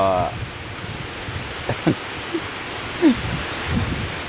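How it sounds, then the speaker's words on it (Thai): Steady rushing wind and rain on a roof, close and constant, with occasional brief thumps and a voice speaking faintly at the start. "ก็จะเป็นเสียงลมเสียงฝน ลงหลังคาครับผม"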